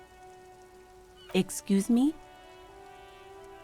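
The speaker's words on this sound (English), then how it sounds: "It's raining again." A soft, steady patter of rain falls in Disco Elysium beneath a faint tonal hum, continuing quietly throughout while a voice briefly speaks a short question midway.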